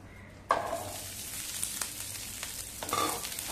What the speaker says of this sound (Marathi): आता आपण अर्धा चमचा भरून तेल घालूया. आणि त्याच्यातच मिरच्या घालूया.